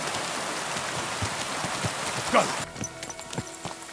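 Steady rain pours in the medieval world of Kingdom Come Deliverance 2, a dense hiss with scattered nearby drops, and a faint clopping of horse hooves blends in before the patter thins slightly near the end.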